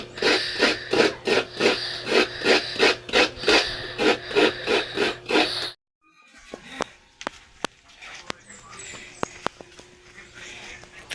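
A coconut is grated by hand in a rural Bicol home, first as a run of quick, regular rasping scrapes, close and loud. Then comes a quieter stretch of sparse clicks and birdsong.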